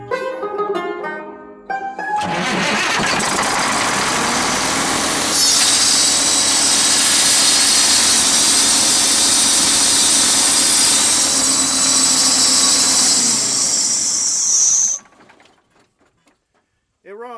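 Old Mack truck diesel engine with a loose turbo clamp, starting up and then running loud and steady at close range. The roar rises partway through and then cuts off abruptly near the end.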